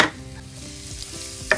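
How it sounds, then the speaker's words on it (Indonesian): Garlic sautés in hot oil for sweet and sour snapper, a brief, close sizzle with a soft crackle at the start and another near the end. "Lalu kita tumis bawang putih."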